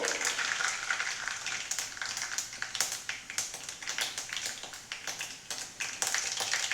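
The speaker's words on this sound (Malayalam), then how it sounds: "ഉലുവ ഒന്ന് പൊട്ടി വരുന്ന സമയത്ത് നമുക്ക് കടുക് കൂടി അതിൻ്റെ കൂടെ ചേർത്ത് കൊടുക്കാം" Fenugreek and mustard seeds fry in hot coconut oil, giving a steady sizzle broken by many small sharp pops and crackles, close and fairly loud with no voices.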